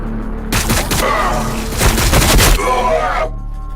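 Dense gunfire and explosions from the Warhammer 40k Battlesector video game, a loud, rapid barrage of overlapping shots and booms lasting a few seconds, with battle voices mixed in.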